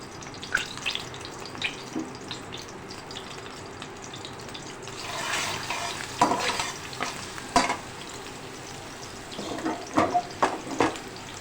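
Crushed garlic, about four to five cloves, sizzling and frying in hot oil for a spaghetti tomato sauce, with steady crackle and a few stirring scrapes and clinks nearby; no talking.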